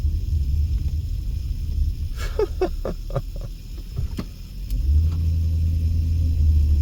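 A car passes a cyclist in a Las Vegas bike lane, its engine rumbling steadily close by and swelling louder toward the end, with a few faint ticks over the road noise and no talk.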